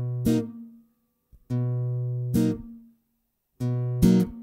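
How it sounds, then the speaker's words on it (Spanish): Slow, muted downward strums on an acoustic guitar playing a chord, with a bass note picked before each; three short damped chords ring out separately with gaps of silence between them, close and clear. "Y otra vez tocamos un rasgueo hacia abajo muteado."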